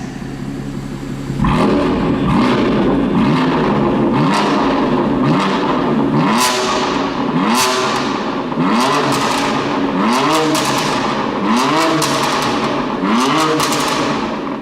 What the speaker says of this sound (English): Big V8, that's how it should be.